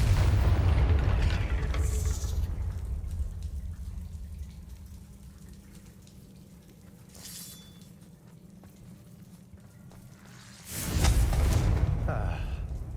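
Confringo fire spells from Hogwarts Legacy burst into heavy booms, one loud blast at the start fading into a rumble and a second strong blast near the end, with quieter crackles and game ambience between.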